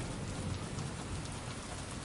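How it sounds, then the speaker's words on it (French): Heavy rain pours down steadily during a sudden storm, a dense, constant hiss of drops drumming on surfaces with no pauses or voices. "la pluie commence à tomber en torrent"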